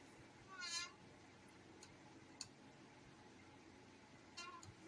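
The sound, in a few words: cat meowing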